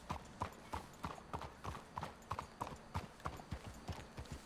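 Horse hooves clip-clop in Red Dead Redemption 2 in a steady, even walking rhythm. The hoofbeats are fairly quiet and continue throughout, with no voices heard.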